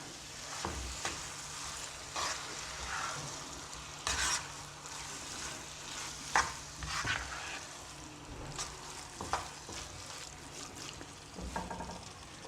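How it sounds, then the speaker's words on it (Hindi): A spoon is stirred through carrot halwa in a pan as milk powder goes in, making soft, uneven scraping and a gentle sizzle, close by and with no voices. "अब मिल्क पाउडर को थोड़ा सा मिक्स करेंगे, थोड़ा थोड़ा करके डालना है आपने।"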